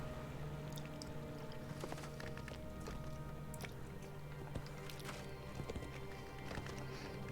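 Horse hooves clip-clopping in a video game, a steady run of soft repeated hoofbeats under constant game ambience and music, fairly faint throughout.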